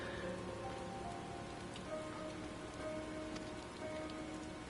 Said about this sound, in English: this is the first time I'm actually getting the rain with the scene.